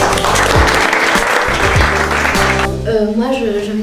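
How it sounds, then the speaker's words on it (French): An audience at a World Press Freedom Day event claps loudly for a few seconds, dense applause that fades as a voice begins speaking toward the end. "Vous pouvez l'applaudir très fort."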